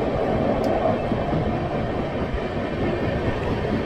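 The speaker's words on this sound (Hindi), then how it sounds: "तो अभी अपनी ट्रेन स्किप कर रही है गोधरा जंक्शन" The Ernakulam Duronto Express runs past Godhra Junction in India, giving a continuous, even rumble of wheels and carriages heard from on board, without voices.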